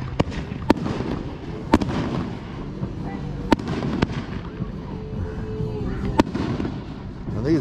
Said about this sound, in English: these are just the pre-show fireworks